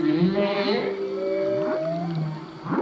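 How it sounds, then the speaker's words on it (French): A male humpback whale sings in an undersea canyon off Mohéli island, giving a loud, drawn-out moaning call with rising and falling sweeps and a lingering echo. "le mâle est dans un canyon au large de l'île de Mohéli et il chante. Il émet un chant avec écho"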